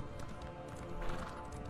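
Horse hooves galloping in The Elder Scrolls Online on PS4, a steady quick clip-clop rhythm running throughout at moderate, fairly quiet level over faint background music.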